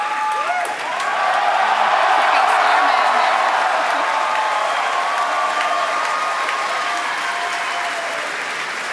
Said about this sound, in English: if you could hear all that cheering, it was an outstanding test flight of the Falcon Heavy